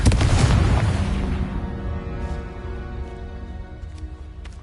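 Confringo fire spell explosion in Hogwarts Legacy: a single loud, deep boom at the start that rolls off into a long, fading rumble with scattered faint crackles.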